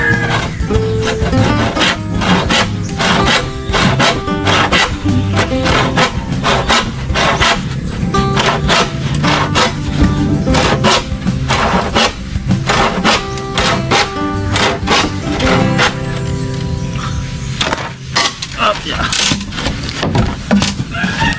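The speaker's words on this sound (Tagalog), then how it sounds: "Iba talaga pag medyo tuyo na yung kawayan. Hindi mabigat, mabilis mo lagariin." Handsaw cutting dry split bamboo for fencing, a fast rhythmic rasp of repeated strokes, close and loud, with some voice and clatter mixed in.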